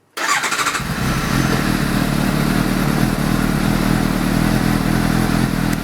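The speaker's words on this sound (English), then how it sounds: "So if I start the bike up," A motorcycle, tested with a Telwin T Charge 12 Evo battery charger attached, cranks briefly and fires up, then settles into a loud, steady idle close by.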